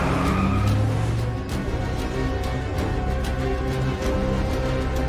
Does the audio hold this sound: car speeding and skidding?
yes